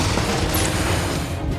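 Dense, continuous gunfire in the VR shooter Pavlov VR, with shotguns among the weapons: a loud, sustained barrage of blasts and crashes running the whole time, with no speech.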